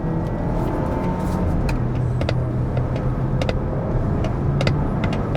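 A Volvo V60 Cross Country T5 drives in sport mode with manual shifting, giving a continuous engine and road drone from inside the cabin, with faint clicks and ticks scattered through it.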